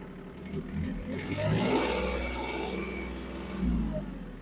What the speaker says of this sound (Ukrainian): Вижимаємо щеплення, і, в принципі, можна заводити завівся дуже гарно.